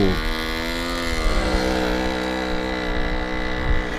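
A 1981 Karpaty moped with a rebuilt engine and new carburettor riding along, its small two-stroke engine droning steadily and close with slowly shifting pitch, no talk over it.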